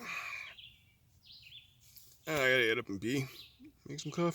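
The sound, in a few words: birds chirping in the morning at a campsite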